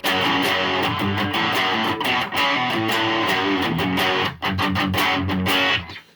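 Guitar played through a Funny Little Boxes 1991 distortion pedal with the bass turned up, giving a thick, saturated, deep chordal tone with strummed accents and brief gaps, loud and close with no talking.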